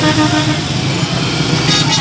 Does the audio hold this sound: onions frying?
no